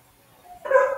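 A single short dog bark or yip indoors, brief and fairly close after a quiet moment.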